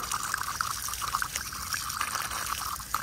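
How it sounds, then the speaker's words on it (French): Plants near a guava tree being watered, with a steady, close splash and trickle of water running throughout. "Je vais arroser là parce qu'il y a un peu de cendre ici, là."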